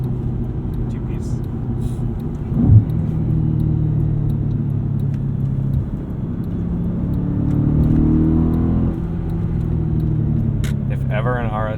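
A 2007 Audi RS4 on a test drive heard from inside the cabin, its engine a steady low rumble that swells as the car accelerates, with road noise throughout and a brief bump partway through.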